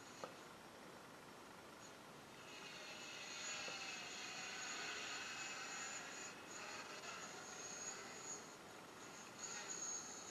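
A drone landing, its faint high-pitched rotor whine swelling and holding steady, heard from a distance with a quiet background hiss.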